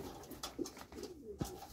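Pigeons in an aviary give soft, low coos, faint and close, a couple of short calls over a quiet background with no talking.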